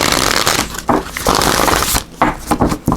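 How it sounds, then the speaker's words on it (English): Tarot cards being shuffled by hand in a few quick riffling bursts separated by brief pauses, close and crisp, with no talking. "Let's give these a little shuffle."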